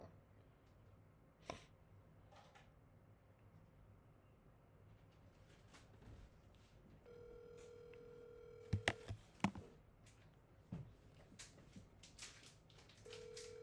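A mobile phone call rings out, a steady tone pattern starting partway through and holding over quiet room noise, broken by a few sharp handling clicks and taps near the phone.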